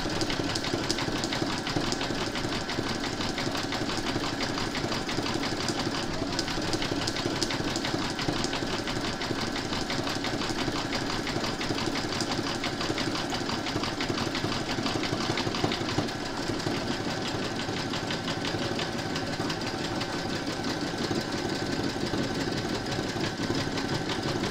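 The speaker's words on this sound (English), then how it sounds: "I'm now going to thread my machine and we're going to stitch the name." A home embroidery machine stitches a name onto a single-hooped lined stocking, a steady mechanical hum with a fast, even needle rhythm running continuously and close up, with no voices.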